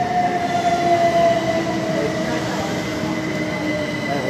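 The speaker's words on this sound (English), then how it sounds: "Train's coming in right now." A train rumbles into Leighton Buzzard station with a steady low roar and a faint high squeal of wheels that fades, voices murmuring in the background.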